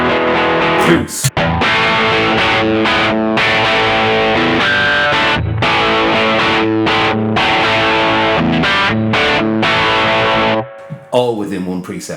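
Distorted electric guitar boosted on a NUX Cerberus pedal, loud chopped chords with short stops, then the playing cuts off and a voice begins talking near the end.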